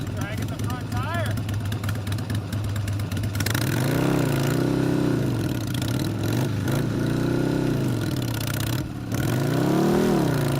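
A car with a broken CV axle drags its front tire while the engine drones and rises in revs, loud and steady throughout, with people talking over it.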